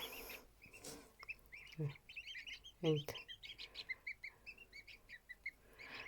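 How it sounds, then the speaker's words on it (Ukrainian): Wild ducklings peep in soft, high chirps, close and fairly faint, scattered irregularly with a few louder calls mixed in. "Дикі качата."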